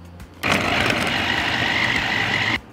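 A food chopper minces onion, a loud, steady motor whir that starts abruptly, runs for about two seconds and stops sharply.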